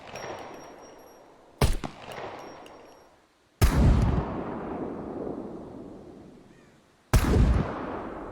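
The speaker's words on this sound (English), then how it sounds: "some of your favorite firearms got a bit overhauled with sounds, most noticeable M9 pistol and M82 sniper rifle." Gunshots from the SCUM video game's overhauled weapon sounds, M9 pistol and M82 sniper rifle: three sharp, loud reports, each trailing a long echoing decay, with no talk.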